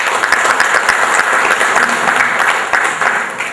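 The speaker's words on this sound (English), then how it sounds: "You deserve some applause." Dense, steady applause from a seated crowd at a government agency meeting, many hands clapping continuously for several seconds before easing slightly at the end.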